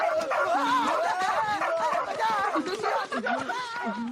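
Animated film scene with a dog making excited yips, whimpers and short howling barks, mixed with bursts of cartoon voices talking and laughing, loud and busy throughout.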